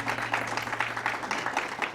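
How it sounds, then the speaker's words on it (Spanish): Church congregation clapping together during a service, a steady wash of many hands applauding at moderate distance with no talk over it. "¿Qué le parece si le damos un aplauso al Señor esta mañana"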